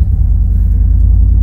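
A Chevy dump truck engine runs loud and close, a heavy, steady low rumble with a slightly uneven, missing throb.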